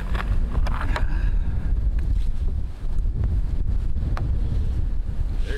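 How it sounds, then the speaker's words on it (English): Strong wind buffets the microphone outdoors on a cold day at a rifle range, a steady low roaring rush that gusts throughout with brief lulls and no voices. "But it's windy as hell, so you cannot have it all."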